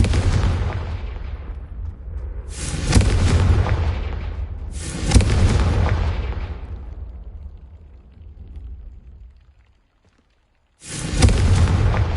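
Confringo fire spell blasts in the game Hogwarts Legacy, several heavy booming explosions in a row, each a loud rumbling burst that fades out, with a brief silence before the last blast.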